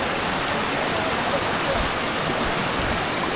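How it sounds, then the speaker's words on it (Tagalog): Floodwater from Typhoon Opong rushes in Occidental Mindoro as a steady, dense roar of churning water, loud and unbroken throughout. "Kasi ragasa na talaga yung tubig"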